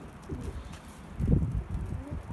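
A crowded flock of homing pigeons coos close by, soft throaty murmurs overlapping in a brief steady chorus with a slightly louder burst midway.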